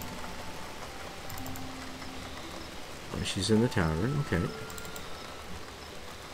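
Steady rain falls in the medieval life-sim video game Saelig, a continuous soft patter and hiss throughout, with a person talking briefly over it.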